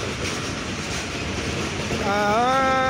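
Nilsagar Express train at Saidpur railway station at night, a low rumble of the train with station noise, then a rising, wavering horn-like tone near the end as a voice talks over it.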